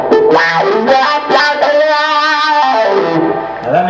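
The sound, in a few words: filtered guitar distortion effect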